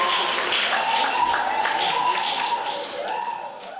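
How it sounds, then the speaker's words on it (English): Wedding guests applaud during a reception speech, a sustained burst of clapping with a tonal voice-like cry over it that fades toward the end. "can we just give her a round of applause?"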